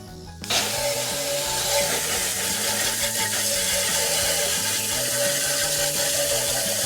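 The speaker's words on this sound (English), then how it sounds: "Now let's spray this thing down." A hose switches on and sprays water steadily over a Nissan Frontier transmission pan being rinsed, a loud hissing gush that runs close and unbroken with no voices.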